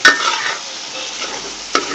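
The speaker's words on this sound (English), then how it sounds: "Now I've dropped in all the prawns." Marinated prawns hiss and sizzle steadily in hot oil for two seconds, a close, broadband frying sound with a sharp clatter at the start and another near the end as the pieces are stirred.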